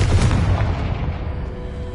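A Confringo blast spell in the Hogwarts Legacy game goes off as a loud, deep boom with a sharp onset, then a rumbling tail that stays heavy and slowly fades over the next two seconds.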